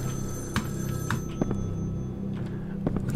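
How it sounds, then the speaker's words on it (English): A telephone rings in the Evil Inside video game, sounding as repeated short bell bursts over a low hum with a few thumps, close and clear, with no voices. "The phone is ringing."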